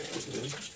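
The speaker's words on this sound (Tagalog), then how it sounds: "mayroon ng tubig ang ating gripo" Water runs from a newly connected faucet in a bathroom, a steady broadband rush of flow lasting under a second at an even level, with no talk over it.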